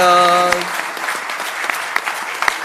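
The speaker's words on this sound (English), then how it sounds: "Please clap." A crowd applauds steadily, a dense patter of clapping at moderate distance, with a held musical tone fading out at the start.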